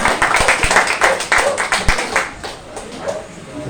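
A congregation clapping at a Sunday worship service in a Filipino chapter church, loud, close, uneven hand claps with some sharper individual slaps, running for several seconds and tapering off near the end, with light voices underneath.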